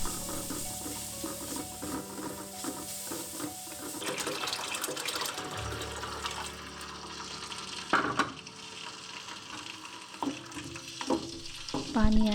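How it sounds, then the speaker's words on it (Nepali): Pepper, chili powder and coriander fry in a pan for momo soup with buff momo, giving a steady close sizzle with occasional clinks and stirring scrapes, and no one talking. "अलिकति धुलो खुर्सानी अनि धनिया एड गरेर एकछिन फ्राई रोस्ट गर्दैछु"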